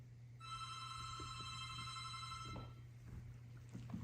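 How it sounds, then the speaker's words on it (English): A telephone bell rings in one long sustained electronic trill for about two seconds, then stops, leaving a quiet room with a low steady hum and faint shuffling at night. "the silence was interrupted by a phone ringing"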